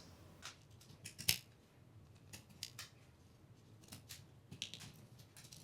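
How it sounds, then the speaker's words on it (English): Razor blade cutting drywall around a popped screw, a series of quiet, close scraping and crisp slicing strokes in irregular bursts, with no talk. "take the point of your razor blade and kind of put that in the center of the screw, that's where we're going to want to cut around this."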